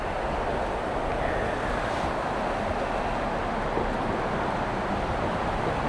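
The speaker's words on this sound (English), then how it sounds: "Yeah, it is gusting right now." Gusting wind roars steadily around the microphone on a windy, dreary autumn day as it blows through trees full of leaves, a loud, continuous broadband rush with no voices.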